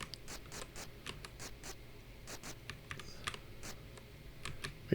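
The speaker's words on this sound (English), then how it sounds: "Probably maybe a key on the keyboard." Computer keyboard keys pressed while playing Gauntlet (1986, Atari) on a C64, a quiet irregular run of close, light clicks and taps over faint background hum.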